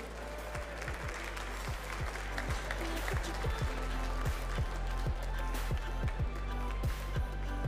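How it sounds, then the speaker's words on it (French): Audience at a Sirha food trade show cheese and chef demonstration applauds steadily, a dense wash of clapping with some sharper individual claps throughout. "On peut les applaudir bien fort"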